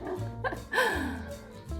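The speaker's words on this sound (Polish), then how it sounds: "Znowu mój pies, to jest chyba normalką, będzie na każdym nagraniu." A pet dog yaps and barks a few times at close range indoors, short high yips that run into a brief whimpering cry.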